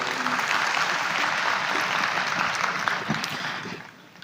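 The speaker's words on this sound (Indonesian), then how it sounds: "Boleh berikan tepuk tangan untuk beliau." Applause from a large audience at a religious gathering marking a boarding school's centenary, a dense, continuous clapping that stays strong and then fades out in the final second.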